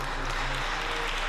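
Applause from a Mass congregation for a choir, the Orfeón Arandino, at a church service; dense, steady clapping fills the short stretch at an even, moderate loudness with no voices over it.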